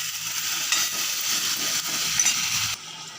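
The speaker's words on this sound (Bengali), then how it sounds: "এখন ভেজে রাখা টমেটো আলুটা দিয়ে দিলাম, ভালো করে মশলার সাথে কষিয়ে নিচ্ছি।" Fried potatoes and tomatoes stirred into spice paste in oil for a vegetarian curry, a loud, steady sizzle with spatula scrapes that drops noticeably quieter just before the end.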